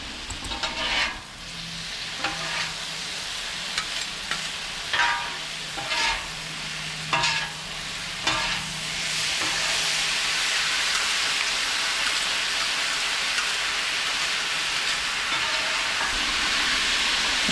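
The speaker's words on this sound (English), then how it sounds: "you can hear that sizzle as it hits the hot, clean side of the griddle" Chicken and sauce sizzle steadily on a hot griddle, punctuated by scraping and stirring clatters early on, then settling into a loud, continuous hiss.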